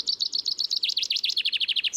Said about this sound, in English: It's a chaffinch.